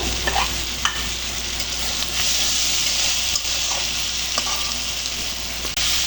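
Masala for a Rohu fish curry fries in oil with a dense, steady close-up sizzle, while spoon stirring adds occasional scrapes and light knocks against the pan.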